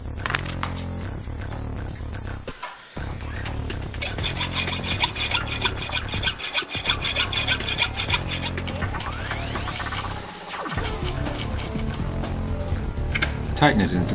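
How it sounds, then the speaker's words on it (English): A hand saw cuts through 8mm aluminium round bar in rapid, rhythmic rasping strokes, close and continuous with a few brief pauses between bursts of sawing. "Now take a bit of aluminium 8mm round bar and cut off"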